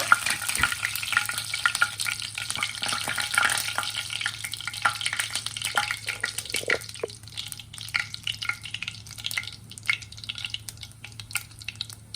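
Spices such as cardamom, cinnamon and cumin sizzle in hot oil for a spicy boneless masala chicken fry, a steady close crackle with occasional stirring scrapes and small pops.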